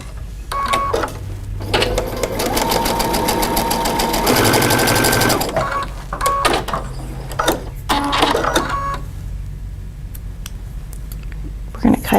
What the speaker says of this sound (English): I'm just going to add this corner square, pin, and sew on the line.